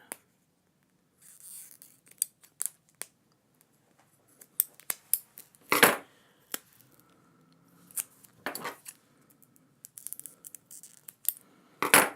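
Scissors snip off the bottom edge of a printing block for a harvest bag, making a scattered series of short, close cutting clicks and crunches among light handling noises in a quiet room.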